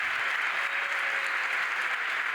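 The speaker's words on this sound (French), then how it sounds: "Des applaudissements nourris pour cette inauguration un peu spéciale" Sustained, dense applause from a crowd of about 300 people at the inauguration of a hydrogen production factory, steady and loud throughout without talk.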